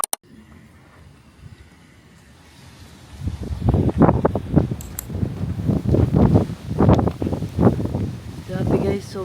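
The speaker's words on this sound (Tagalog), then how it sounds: "sobrang lakas ng hangin" Strong wind in Tagaytay buffets the microphone, starting as a low rumble and then breaking into repeated loud, rough gusts that come and go through the rest of the moment.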